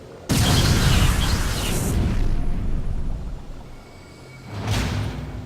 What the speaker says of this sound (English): right here, power bomb